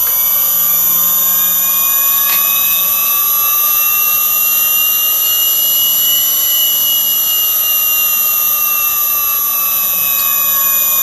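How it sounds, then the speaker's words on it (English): A new CNC spindle motor runs steadily, driven by an inverter, with a continuous high whine and layered tonal hum alongside a cooling fan; the pitch holds even throughout, loud and close, with no talking. "Spindle's turning."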